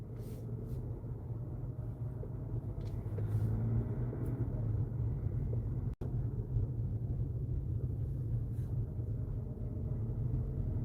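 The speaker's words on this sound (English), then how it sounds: "driving here in St. Paul, Minnesota" A car rolls through quiet residential streets of St. Paul, Minnesota on a weekday afternoon, heard from inside as a steady low engine and road rumble with light wind noise and one sharp click midway.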